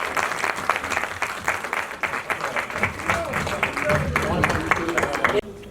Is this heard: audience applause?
yes